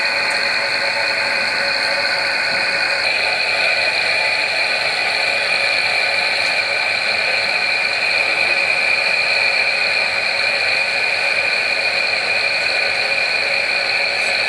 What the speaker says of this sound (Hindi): मैं वैक्यूम बंद करता हूँ।